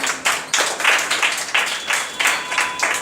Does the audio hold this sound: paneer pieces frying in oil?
no